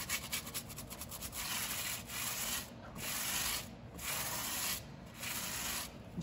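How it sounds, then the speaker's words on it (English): A stiff brush scrubs a car wheel rim beside a whitewall tire, making hissy, scratchy strokes in rhythmic bursts about a second apart, close and fairly loud, with no talking. "Here with a stiff brush."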